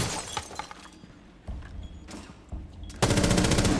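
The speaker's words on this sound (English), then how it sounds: "You want to make them hear the explosions." Grenade explosions and gunfire in the Rainbow Six Siege video game: sharp bursts and crackling shots, then a loud sustained blast with debris at the end, fairly close.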